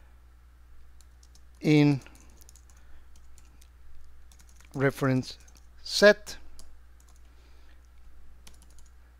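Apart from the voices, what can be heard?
computer keyboard typing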